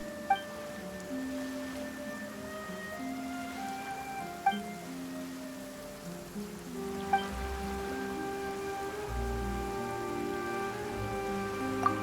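Rain falling in Genshin Impact, a soft, steady patter on surfaces with occasional louder drops, alone under quiet sustained background music.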